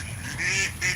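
Ducks about to be fed give two brief nasal honking quacks, close by and fairly clear, the second one short.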